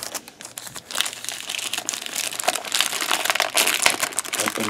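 Thin plastic bag crinkles and crackles continuously as a sealed, brand-new computer is unwrapped, a busy close rustle with sharp crackly bursts and no talking.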